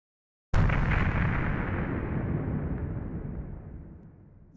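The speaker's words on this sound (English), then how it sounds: "The Laser Matic 2000 blew up, tearing apart the old warehouse." A huge explosion of the Laser Matic 2000 machine rips through an old warehouse in a storybook app, beginning with one sudden loud blast that rolls into a long rumbling roar and fades slowly, with no voices.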